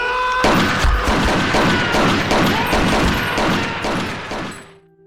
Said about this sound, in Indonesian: Letnan Choi pun langsung membunuh Kopral Jo dengan senjatanya